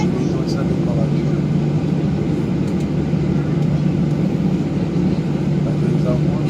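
A Gol airliner's jet engines spool up before takeoff at Recife airport, a loud, steady low drone with a faint whine on top that holds at full strength throughout.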